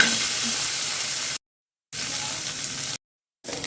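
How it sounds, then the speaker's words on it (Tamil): Garlic and ginger frying in a little oil for pirandai chutney, a steady close sizzle that cuts out abruptly twice, then resumes. "இப்போ பூண்டையும் இஞ்சியும் லைட்டாக செவக்கிற அளவுக்கு வறுத்துக்கலாங்க"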